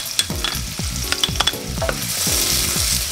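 Onion, garlic and ginger fry in virgin coconut oil, a steady close sizzle broken by repeated stirring scrapes and clinks of a utensil against the pan.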